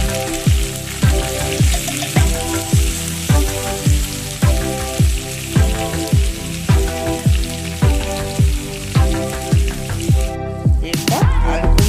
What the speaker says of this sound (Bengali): আলু কুমড়ো দিয়ে ভালো করে নেড়ে চেড়ে অল্প ভেজে নেব।